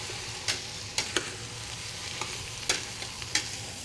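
Aromatics sautéing and browning in a pan make a soft continuous sizzle, punctuated by several sharp utensil scrapes and taps as they are stirred, close by and quiet.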